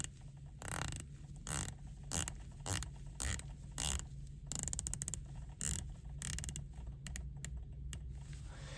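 A Breitling watch bezel is turned by hand, giving a quick run of crisp, close ratcheting clicks in irregular bursts against a quiet background.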